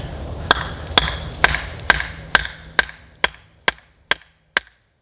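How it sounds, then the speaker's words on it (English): Wood is split by batoning a SOG camp axe, about eleven sharp, evenly spaced knocks of wood striking the axe. They ring out close and loud with no talking, and the blows gradually soften and speed up slightly toward the end. "we're gonna just basically do a little batoning on this using the other half of it"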